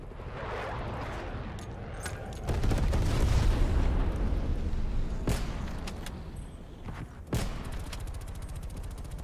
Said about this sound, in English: threw an accurate grenade on me